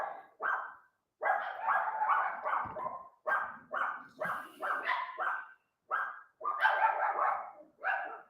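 Dogs bark repeatedly in short bursts and clustered volleys, near and steady, with a few higher yips mixed in and no voices.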